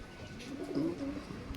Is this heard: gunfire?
no